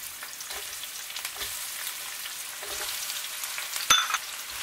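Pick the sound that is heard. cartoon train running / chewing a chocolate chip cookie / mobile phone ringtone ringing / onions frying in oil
onions frying in oil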